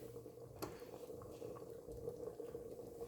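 Thick whole green moong dal simmering on low heat, a faint steady bubbling with soft plops, one brief clink, quiet and close throughout.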